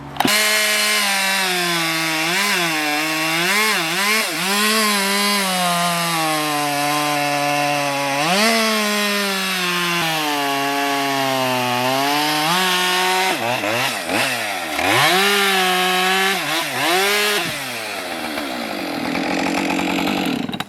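Chainsaw felling a tree near buildings, cutting from the top first and then finishing from the bottom, a loud close engine roar that rises and falls in pitch as it bogs and revs through the wood, continuous with no talk.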